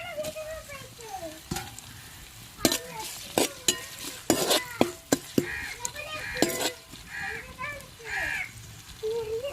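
Chopped green chillies and onions are stirred and fried in a pan for a fish curry, with a soft sizzle underneath and irregular sharp scrapes and clinks of the spatula against the pan. A voice is briefly heard early on.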